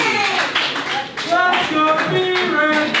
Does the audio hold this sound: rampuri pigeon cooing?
no